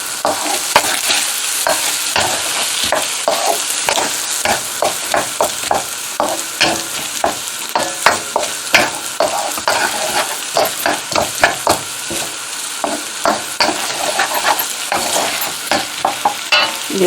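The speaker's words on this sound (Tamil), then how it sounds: "எல்லாத்தையும் சேர்த்து நல்லா மிக்ஸ் பண்ணுவோம்." Chicken fried rice being stirred and fried in a pan, a steady sizzle under a quick, regular series of loud scraping strokes from a spatula, close and continuous with no talking.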